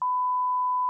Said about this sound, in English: I forgot about the alarms